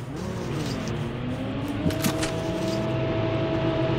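Motorbike engine in the Call of Duty Mobile video game, a steady droning hum with rising and falling pitch held close and loud throughout.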